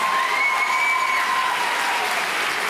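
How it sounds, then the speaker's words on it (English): Loud, steady applause from an audience for painters and artists at an arts showcase, a dense wash of clapping with a high sustained tone running through it. "Give them a big round of applause"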